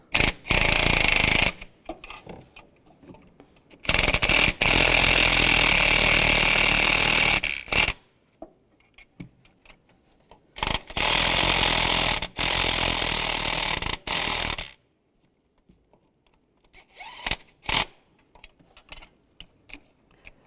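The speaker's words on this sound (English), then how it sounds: "Now I'm going to go back and snug these up using a 12mm socket" A power tool with a 12mm socket snugs exhaust manifold bolts on a 2002-2009 Chevrolet Trailblazer, firing in several loud bursts of a few seconds each, separated by quiet gaps and shorter clicks.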